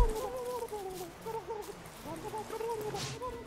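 Turkey in the video game Don't Starve, a run of short gobbling, clucking calls repeating through the clip, moderately loud, with a person talking over them.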